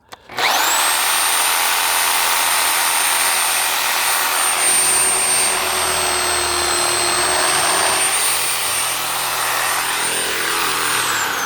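A tree-digging machine's blade cuts through the roots while lifting a golden pine, producing a loud, close, continuous high-pitched mechanical whine that holds steady for over ten seconds.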